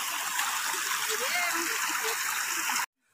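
Near and steady, a forest stream and waterfall rush and splash over rocks on a mushroom-hunting trail. The noise is loud and continuous, then cuts off abruptly near the end.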